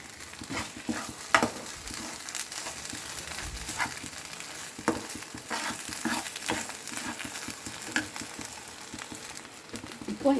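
Chutney ingredients with coconut sauté in a pan. Frequent scraping stirs and soft crackling run over a low sizzle that rises and falls without stopping. There is no talk.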